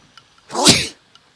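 A single sharp sneeze, close and fairly loud, in a home kitchen during village-style vegetable curry cooking, standing alone with near silence before and after.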